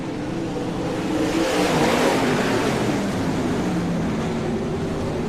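Limited sprint cars roar off the start of a heat race at a state title meeting in Carnarvon, WA, a loud dense wash of engines revving together and swelling slightly before holding steady, with no voices.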